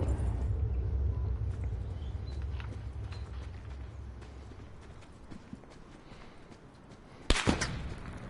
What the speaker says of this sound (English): Getting sniped at from the north